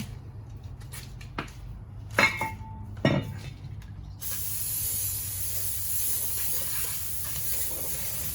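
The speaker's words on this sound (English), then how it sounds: "I've got some brake clean." Brake cleaner sprays in a steady, loud hiss onto car brake parts during a front brake and rotor job on a RAV, lasting several seconds after a few light metallic clinks and handling knocks.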